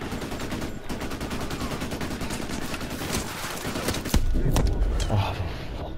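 Rapid automatic gunfire aimed at sentry guns in the Modern Warfare 2 remastered campaign, a dense continuous rattle of shots with a louder, heavier burst toward the end, under some game voice chatter.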